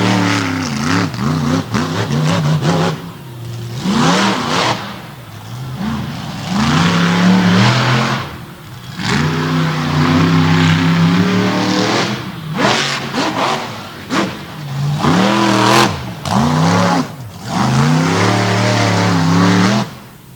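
The Toxic 2.0 monster truck, a metal shop chassis machine out of Frederick, Maryland, revs loudly at an All Star Championship track, its engine roaring in long surging bursts that rise and fall with brief drops between pulls.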